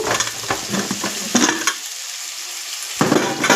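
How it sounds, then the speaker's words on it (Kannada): Tomatoes fry in a pan with a soft sizzle and several scraping stirs and utensil clinks, one quieter stretch in the middle before stirring resumes. "ಟೊಮೆಟೊ ಫ್ರೈ ಆಗ್ತಾ ಇದೆ"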